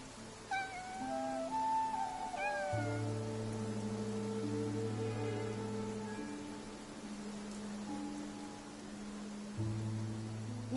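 A cat meows repeatedly in the video game Infinity Nikki, several drawn-out, mid-distance calls over a sustained tonal game soundtrack with a faint wash of rain.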